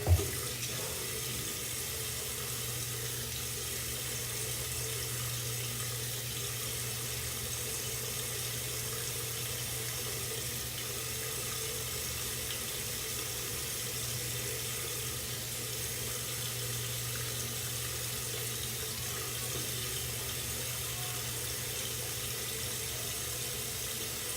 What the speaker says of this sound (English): All right, let's add some water.